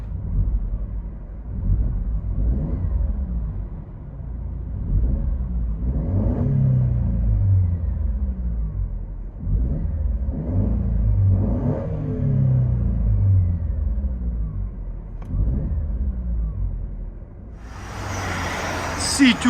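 A 2013 Mercedes C250 with a 1.8L engine and muffler delete exhaust rumbles and revs in repeated deep swells, heard up close from inside the car, with a brief burst of noise at the end.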